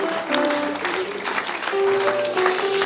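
A church congregation claps continuously, a dense wash of many hands at moderate volume, with singing or voices faintly mixed in.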